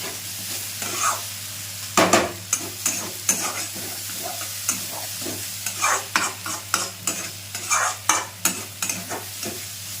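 Onions frying in a pan for an Assamese village-style tura fish curry, a soft steady sizzle broken by repeated sharp scrapes and clacks of the spatula as they are stirred, close and fairly quiet.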